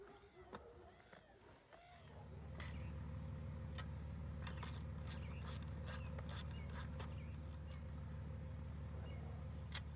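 Bolts are tightened on the offset bracket of a roof vent snow-destroyer guard, giving repeated sharp metallic ratcheting clicks over a steady mechanical hum nearby.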